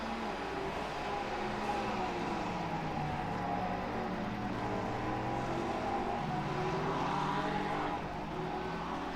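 GT3 race car lapping Virginia International Raceway in iRacing, a continuous engine drone with shifting pitch as it accelerates and brakes, moderately loud and steady throughout, no talk over it.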